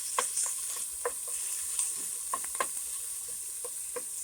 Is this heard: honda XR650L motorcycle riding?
no